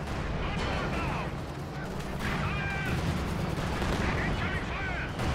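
Gunfire in the World War II strategy game Company of Heroes 2 on the Lublin map: rapid overlapping shots and bursts crackle continuously, loud and dense, with game voice lines mixed in.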